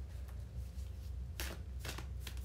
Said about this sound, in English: I'm almost done shuffling. This is a huge deck.